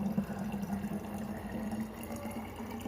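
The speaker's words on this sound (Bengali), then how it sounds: "এই যে আমি এখন ফিল্টার থেকে জলটা ভরছি" Water running steadily from a household water filter into a container, a continuous close, moderately loud flowing and filling sound with no break.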